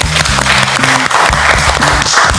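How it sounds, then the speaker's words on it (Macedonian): Audience applause at a culinary reality show, loud, dense clapping from a crowd that runs steadily throughout with overlapping sharp claps, close and full. "Аплауз за мова."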